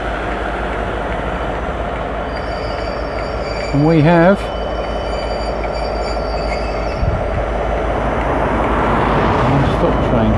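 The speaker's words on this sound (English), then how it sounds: "Now, what train do we have coming along here then?" A West Coast Railway train rolls past nearby, a loud continuous rumble with a brief wheel squeal, while someone talks over it to children.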